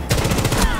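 A rapid burst of gunfire from a Rainbow Six Siege match, several sharp loud reports in quick succession packed into under a second.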